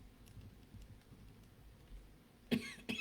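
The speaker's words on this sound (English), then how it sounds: "It's making me cough." Quiet room hiss with faint taps, then a person coughs twice near the end, one sharp cough followed by a shorter one.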